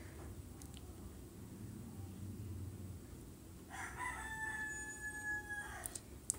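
A pet rooster crows from a distance, heard faintly from a kitchen in one long drawn-out call, preceded by a soft low background murmur.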